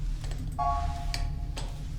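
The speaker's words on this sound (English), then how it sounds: "Do I have to be worried about that clicking?" In the video game The Barnstars, a faint clicking sounds, with a few soft ticks and a brief tonal chirp over a low background hum.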